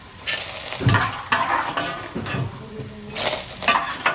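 Chutney ingredients roasting in a pan over a medium flame, with bursts of soft sizzling and repeated scraping stirs of a spoon against the pan, close and alone.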